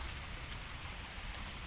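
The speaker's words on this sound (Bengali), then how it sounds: "ও বৃষ্টি পড়ছে।" Rain falling steadily outdoors, a dense continuous hiss of drops on surfaces with no other sounds.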